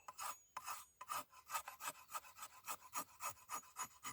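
An Esee Expat Darian machete shaving fine curls off wood, close rhythmic rasping strokes repeating about three per second, each a short scraping burst, with no talking.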